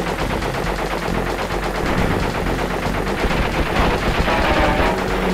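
Gunfire in Crash Bandicoot: Warped plays as a loud, nonstop rapid-fire stream of shots with no break, close and dense, and no talking over it.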